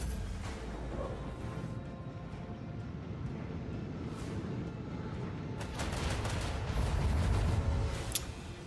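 Torpedo and missile fire in the space-combat video game Rogue Trader, a continuous dense rumble of launches and blasts with sharper bursts near the end, loud and unbroken, without talk.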